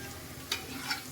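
Vegetables frying with a little salt in a pan for palak paneer rice, a brief close sizzle with a couple of light spatula scrapes, quiet and without speech.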